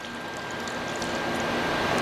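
Water and vinegar poured into a container while being measured out for homemade chorizo: a steady, close, rushing trickle that grows slightly louder and fuller over two seconds, with no talk.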